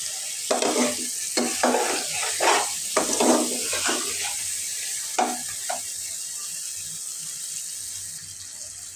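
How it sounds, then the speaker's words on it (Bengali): Water goes into a hot pan of sizzling curry, with bursts of splashing and stirring over a steady frying hiss that settles into a quieter simmer. "এখন আমি পরিমাণ মতন পানি দিয়ে দেব"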